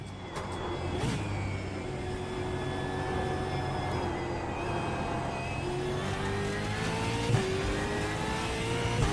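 Supercar engine in a racing video game, a steady loud drone with rising and falling revs and gear changes throughout, no talking.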